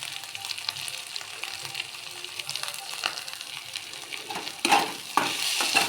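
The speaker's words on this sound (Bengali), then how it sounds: "সমস্ত কিছু দিয়ে মশলাটা খুব ভালো করে কষে নেব একটু গুঁড়ো লঙ্কা" Spice paste with chili powder, for a prawn and poppy seed dish, sizzles in a pan as it is stirred, a soft continuous frying hiss with scraping utensil strokes that grow louder near the end.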